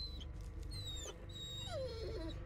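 A skeleton dog in the Blair Witch video game whimpers and whines in long, wavering high cries over a steady low game drone, with no talk.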